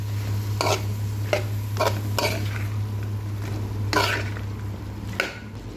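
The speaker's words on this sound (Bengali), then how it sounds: "এখন এটাকে একটু ভালো করে নেড়ে দেবো চারদিকে" Pumpkin tossed with fried spices in a pan over low heat, with about half a dozen distinct scraping stirs over a steady low hum and faint sizzle, close, no talking.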